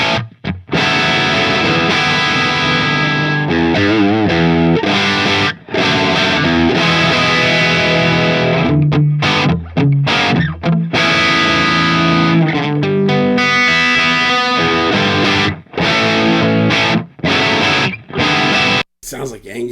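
Heavily distorted electric guitar through a cabinet loaded with Vintage 30 speakers plays loud chords and riffs with brief choppy gaps, thick and aggressive throughout, no talking.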